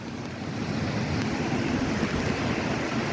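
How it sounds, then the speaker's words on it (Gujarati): Heavy surf from a full-moon high tide at Daman washes over a seaside road, a loud, continuous roar of breaking water and wind with no voices. "દરિયાની ભરતી જો આ રોડ પર આવી ગઈ"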